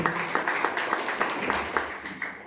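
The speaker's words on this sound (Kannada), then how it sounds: "ಅವ್ರಿಗೆ ಮೊದಲನೇದಾಗಿ ದೊಡ್ಡ ಚಪ್ಪಾಳೆ ತಮ್ಮ ಎಲ್ಲರೂ ಕಡೆ" An audience at a village Dalit awareness event in Karnataka claps together, a dense continuous applause that stays loud and even throughout.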